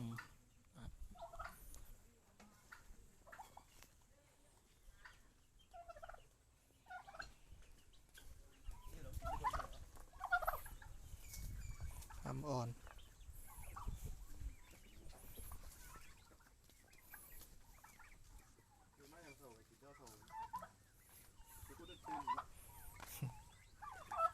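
Young turkey poults two to three months old gobble and cluck softly in a rearing pen, in scattered, fairly quiet calls that come and go over a low background.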